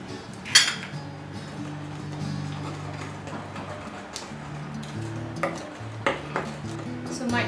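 Eggs are whisked into chocolate and date cake batter, a steady stirring swish with sharp clinks of utensil against bowl scattered throughout, close and moderately loud.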